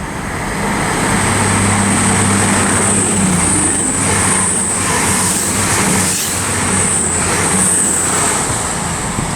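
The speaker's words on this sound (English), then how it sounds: "we've got an East Midlands Railway Meridian going very slowly, heading to London St Pancras from Sheffield" An East Midlands Railway Meridian, unit 222 002, rolls slowly through Luton Airport Parkway station on the Midland Main Line, a loud, steady, close rumble with a high wheel squeal on top and passing traffic noise.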